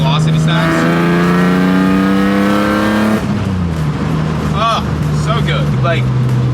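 A BMW E30 with a swapped S54 engine and open velocity stacks, driven on a fall drive, gives a loud close engine note that climbs through the revs, drops at a shift, then pulls again. A voice briefly cuts in over the engine.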